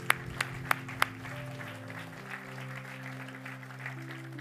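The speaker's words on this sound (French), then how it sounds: "on peut les féliciter, les applaudir" Applause from an audience in a church hall, a few sharp claps at first that settle into a soft, steady patter of clapping, faint and fairly distant.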